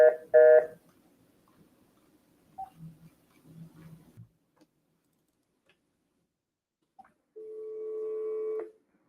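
A telephone dials out for a cold call: a couple of short tones at the start, scattered faint clicks, then a sustained steady tone near the end.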